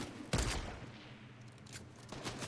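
Gunfire from a video game shootout on rooftops and inside a building: one loud broadband shot burst near the start, then fainter scattered shots, with no talk.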